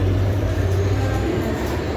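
The Deccan mail train pulling out of a station, a low continuous rumble and rolling hum that stays steady and fairly loud throughout, with no voices.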